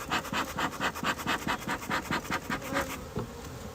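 Honey bees buzzing at an opened hive during a February inspection, a dense droning hum with a rapid pulsing flutter, close and steady throughout, no voices.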